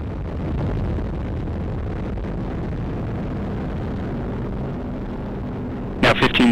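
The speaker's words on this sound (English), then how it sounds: "Liftoff, the United Launch Alliance Atlas V rocket for the 5th Space-Based Infrared System satellite for the United States Space Force" United Launch Alliance Atlas V rocket lifting off with the fifth Space-Based Infrared System satellite for the US Space Force: a steady, heavy roaring rumble with crackle throughout, ending in a few sharp louder bursts.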